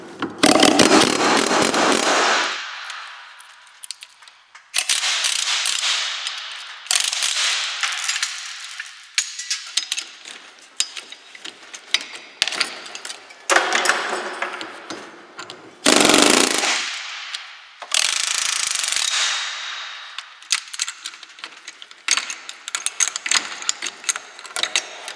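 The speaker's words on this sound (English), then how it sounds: "Now we'll finish the deed with my air chisel." Air chisel hammering out a wheel bearing on a Toyota Tacoma, in loud rapid pneumatic bursts separated by short pauses, with the chattering blows stopping and restarting several times in a row.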